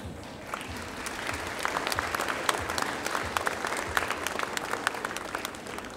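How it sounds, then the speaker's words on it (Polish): Sustained applause from an audience at a school rose-pinning ceremony at a high school in Brodnica, steady dense clapping throughout with some crowd noise mixed in. "Wielkie brawa."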